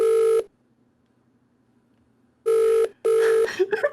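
Telephone ringing for a phone-a-friend lifeline in a quiz game: a loud electronic ring burst, a pause of near silence, then two more rings, the last trailing into brief sounds.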